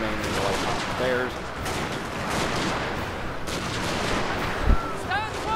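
Massed rifle volleys from riflemen in Shogun 2 crackle through a dense battle din, with a sharper crack near the end and a voice talking over the fighting.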